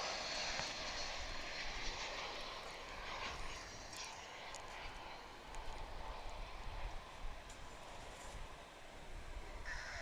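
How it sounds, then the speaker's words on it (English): American Airlines Airbus A319 jet arriving at DFW airport, a steady distant engine roar and rumble heard faintly throughout, with no voices. "It's flight 1049, American Airlines, coming in from Monterrey, Mexico. It's an Airbus A319."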